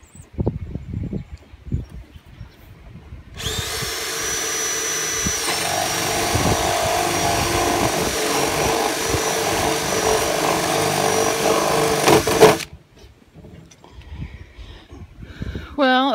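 A power drill bores through a plastic self-wicking tub with a drill bit, a loud, sustained whining drone lasting about nine seconds, preceded and followed by a person talking and handling noises.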